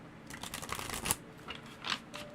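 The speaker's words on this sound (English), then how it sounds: "So, in the meantime, I'm going to shuffle." Tarot cards being shuffled by hand, soft riffling and rustling bursts with a couple of sharper snaps, close and fairly quiet, no talking.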